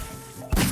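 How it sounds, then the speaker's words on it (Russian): Explosion in the Garry's Mod sandbox game: after a quiet stretch, one sudden heavy, bass-rich blast hits loud and rolls on as broad rumbling noise. "Сейчас еще взрывы будут, смотрите. Эпически взрывает все."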